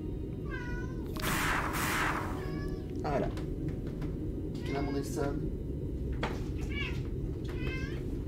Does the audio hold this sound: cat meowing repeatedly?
yes